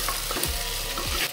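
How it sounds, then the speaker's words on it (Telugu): Mutton paya being stirred together with its ingredients in a pressure cooker, a few scraping, sloshing strokes over a steady close sizzle, with no talking. "ఇలా వేసుకున్న తర్వాత ఇప్పుడు ఇంగ్రీడియంట్స్ అన్నీ దీనికి పట్టుకునే విధంగా ఒకసారి కలుపుకుందాం"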